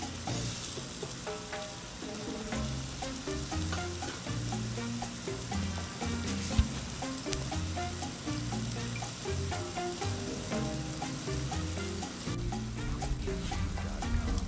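Chicken fried rice with garlic butter sizzles steadily on a 22-inch Blackstone griddle, a dense continuous frying hiss with faint scraping from stirring throughout.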